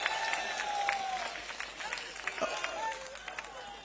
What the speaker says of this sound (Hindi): जोर से ताली बजाइए नारायण सिंह के लिए